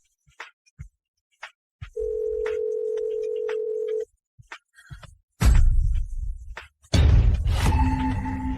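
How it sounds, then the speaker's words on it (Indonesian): Steady telephone dial tone sounds for about two seconds after a few soft clicks, followed by louder thumps and rustling bursts. "Saya telepon Pak Li senior untuk konfirmasi."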